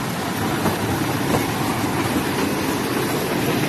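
A train with a CRM engine arrives, rumbling past nearby with a steady, broad roar and faint rhythmic clatter of wheels, continuous throughout, at the Chennai Railway Museum.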